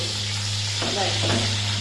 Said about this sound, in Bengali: এবার কম কম জালে আমি বেগুনগুলি ভেজে তুলে নিব।